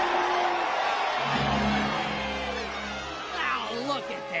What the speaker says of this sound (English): Now look at them, cheering that little pipsqueak.